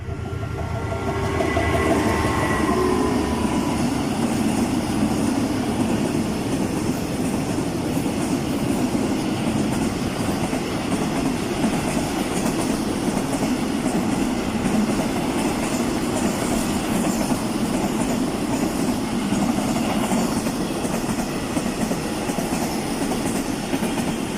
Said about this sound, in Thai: ไปแล้ว อันนี้รถไฟ